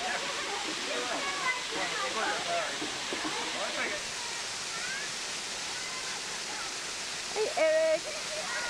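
Steady roar of a waterfall near Ontario, Canada fills the background throughout, with people talking over it.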